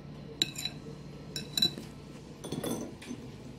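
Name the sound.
mixing peanut butter cake batter in a bowl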